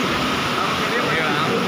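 Heavy rain pours steadily in Jamnagar, a dense, constant broadband hiss with no breaks, close and loud throughout.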